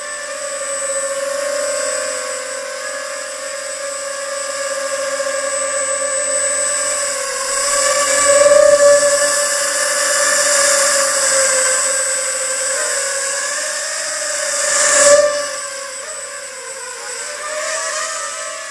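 A Lian Sheng LS-215 micro quadcopter drone flies and flips, its motors giving a steady high whirring buzz with shifting pitch as throttle rises and falls, swelling briefly during the flip moves, with no talk over it.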